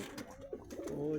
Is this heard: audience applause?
no